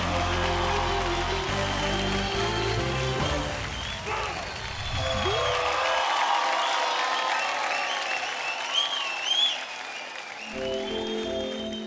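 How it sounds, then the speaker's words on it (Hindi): Applause from the audience at a televised dance competition, sustained clapping from a crowd that runs under music playing throughout, with the clapping most prominent in the middle section. "एक बार इनके लिए जोरदार तालियां हो जाए"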